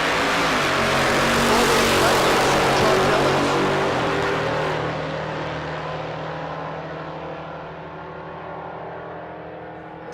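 Two supercharged drag cars, a G-body with a supercharged small block and a C10, roar loudly off the line together, then fade as they pull away down the strip.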